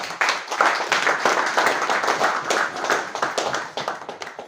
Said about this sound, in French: À ma gauche, le vénérable sénateur Babounou, on applaudit pour lui.